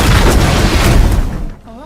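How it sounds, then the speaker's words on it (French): A loud, rumbling gas explosion blast fills most of the moment, then fades quickly as a voice starts speaking near the end. "Exactement, une explosion."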